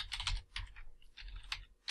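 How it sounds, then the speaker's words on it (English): Quiet, rapid clicking of computer keyboard keys in irregular clusters, close and alone, with short pauses between bursts of typing. "I'll type after here"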